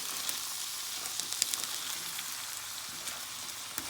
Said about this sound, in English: We're gonna fry the beans up a little with the onion and garlic.